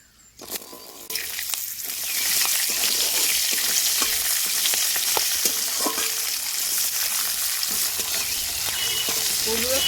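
Green peas and slit green chillies tossed into hot oil with whole spices, cumin, cardamom, dried chilli, cloves, cinnamon and bay leaf, bursting into a loud sizzle after a quiet start, then a steady close fry with stirring clicks.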